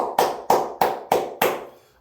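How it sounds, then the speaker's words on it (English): Five sharp, evenly spaced hand claps ring out close and loud, each with a short decaying tail, the last one fading out. "Got to give my dog a round of applause just for special teams."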